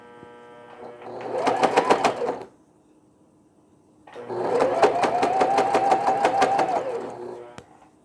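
A sewing machine stitches through thick fabric for a baby bonnet in two close, loud bursts of fast rhythmic thumping with a pause between them, the second run longer.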